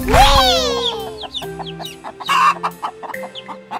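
In a children's farm song, hens make a short squawk and then a string of quick clucks, close and fairly loud, set over a musical backing.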